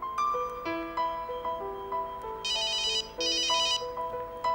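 A cell phone ringtone plays a looping electronic melody, steady and clear, with bursts of buzzy high tones partway through, ringing inside a primed blast chamber.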